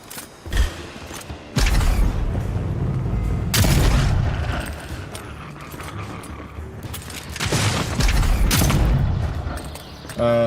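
Gunpowder firearms fire in the fantasy video game Avowed: several loud, booming blasts, each followed by a sustained rumbling roar, with mechanical clanks between shots.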